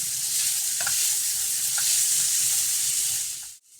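Crab pieces fry in a pan of tomato masala, giving a continuous close sizzle with a few soft stirring scrapes, and the sizzle cuts off abruptly near the end.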